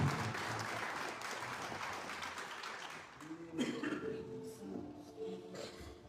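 A church congregation applauding, soft and somewhat distant clapping that fades partway through, followed by quiet voices and faint murmuring.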